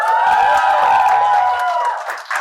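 Live studio audience at a radio jockey's stage show raising a loud, sustained shout with their voices rather than clapping, a brief swell of whooping cheers that fades out.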